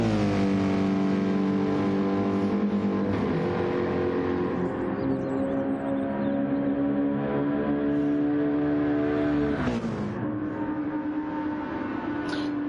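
Engine drone of Gran Turismo-class racing cars lapping Goodwood in a sim racing game, a continuous close harmonic whine that shifts pitch through gear changes with a sharp downshift near the end.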